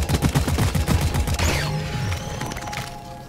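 Loud bursts of rapid automatic fire in the sci-fi mining shooter game Deep Rock Galactic, a dense rattling volley that gives way to a lingering whine and fading echoes.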